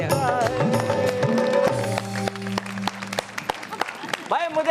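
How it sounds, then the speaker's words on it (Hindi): An audience applauds at a Hindi comedy and poetry show with a comedian-poet, with scattered clapping that rises under a speaking voice and tonal sounds. "बज रही है तालियां, जो अब तक मुझे सुनाई दे रही है तालियों का शोर"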